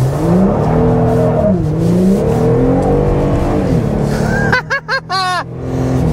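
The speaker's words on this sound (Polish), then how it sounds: "Zobaczymy, czy będziemy mogli palić gumę, jak na drogę szybkiego ruchu będziemy się wbijać." A Jeep Gladiator pickup engine of 285 horsepower roars steadily while its tires spin and squeal loudly, ending in a series of sharp, wavering screeches.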